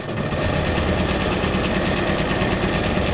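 A sewing machine stitches paper ephemera for a junk journal, a steady rapid mechanical whirr and needle chatter running continuously and close up with no talking.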